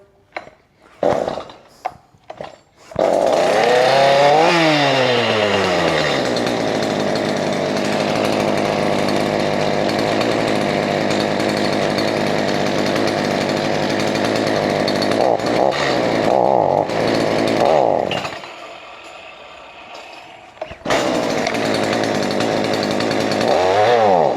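A Stihl MS212C chainsaw starts after a few pulls and runs loud and close for a long stretch, revving up and down, then briefly cuts out before running again.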